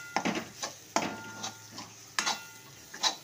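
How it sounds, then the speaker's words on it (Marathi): Gram flour is stirred and roasted in a pan, with a series of distinct spoon scrapes and knocks against the metal at an uneven rhythm over a soft sizzle. "आता याच्यामध्ये 1 वाटी बेसन ॲड करायचं। बेसन छान परतून घ्यायचं"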